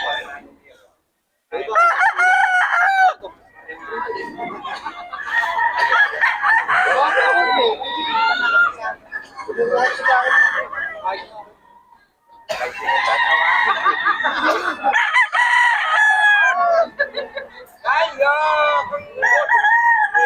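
Roosters and hens at a gamecock market in Bocaue, loud, repeated crowing calls mixed with clucking, several birds overlapping close by with brief gaps between bursts.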